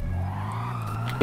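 Police car sirens nearby, a brief steady tonal wail with layered harmonics held evenly for just over a second, moderately loud with no speech.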